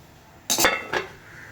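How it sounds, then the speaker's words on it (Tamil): A metal lid set onto a pot of simmering kaara kuzhambu, a Tamil tamarind curry: two quick close clinks about half a second apart, the first louder, with no talking. "இது இப்போ கொதிக்கட்டும், ஒரு மூடி போட்டு நம்ம மூடலாம்"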